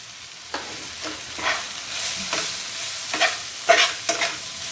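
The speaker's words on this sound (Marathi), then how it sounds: "मसाला परतून घ्यायचा आहे त्याच्यातला" Masala with turmeric being stir-fried in a pan while stuffed capsicum gravy is made: a steady close sizzle broken by several scraping stirring strokes, with no talking.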